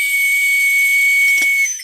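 A plastic toy whistle from a cereal box blown in one steady, shrill, piercing tone that holds for about a second and a half before cutting off, loud and close with no voices.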